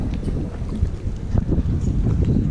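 Steady gusting wind buffeting the microphone in a harbour where boats moor, a continuous low rumbling roar.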